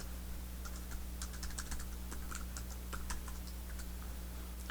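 Typing on a computer keyboard, a string of quick light keystrokes in uneven bursts over a steady low hum, with no talk.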